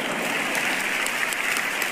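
A studio audience applauds, a dense, steady wash of many hands clapping that holds at an even level for the whole two seconds, with no voices over it.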